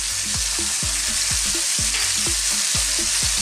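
Bacon with a teaspoon of chopped garlic and black pepper fries in a pan, a loud constant hissing sizzle close by, punctuated by quick regular scrapes and taps of stirring, no voices.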